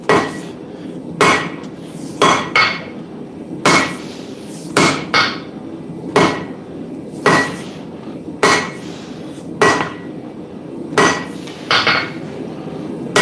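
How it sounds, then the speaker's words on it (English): Heavy 5-pound hammer blows on hot steel at welding temperature during blacksmith forging, a steady series of loud ringing strikes, some in quick doubles, with short pauses between them. "My wrist is really not loving slinging this 5-pound hammer around though."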